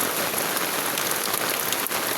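A brief burst of heavy downpour, a thick continuous roar of rain striking nearby surfaces, loud and unbroken.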